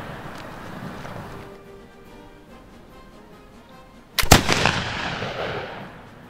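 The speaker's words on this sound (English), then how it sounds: "the first rounds downrange were shot without difficulty" A single sharp, loud shot from an 1800 Pattern Baker rifle fired downrange at an outdoor firing point in wintry conditions, after a quiet stretch, followed by a brief ringing decay.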